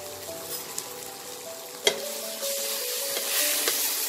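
Cumin and turmeric powder stirred into a pan of green peas curry, a steady close sizzle of frying with soft scraping and a sharp clink of the spoon partway through, no talking.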